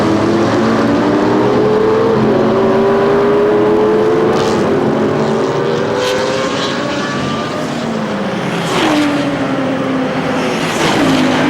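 A race car drives through the La Source hairpin at Spa-Francorchamps, its loud engine note falling as it brakes into the tight corner and then climbing again on the way out, with other engines in the background.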